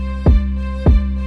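A chopped-up West Coast hip-hop beat from FL Studio, with two heavy booming hits about half a second apart over a steady sustained tone, and no voice.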